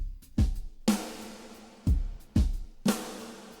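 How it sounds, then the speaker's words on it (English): Snare drum fill from a studio drum session in a music production, with a few sharp, loud hits spaced unevenly across the phrase, each one carrying a bright noisy crack and a short decay, and no voice over it. "And then we have like a snare fill."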